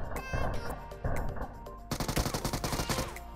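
Rapid automatic gunfire in the shooter game PUBG, bursts of close, loud shots that speed into a dense rattling volley.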